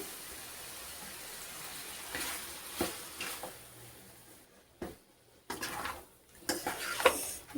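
Coriander powder frying with masala pieces in a pan: soft continuous sizzle under scraping and stirring, with several sharp clinks and knocks of a spoon against the pan.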